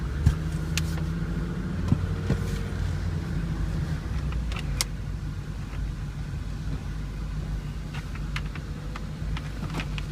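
A 1999 Mazda Miata with 80k miles on the road, heard from inside as a steady engine drone and road rumble, with small clicks and knocks scattered throughout and no speech.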